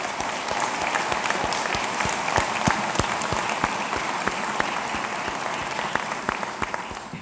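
Sustained applause from an inauguration ceremony audience honoring elected officials, dignitaries and military leaders, a dense steady clapping filling the room with sharp individual claps standing out, no voices over it.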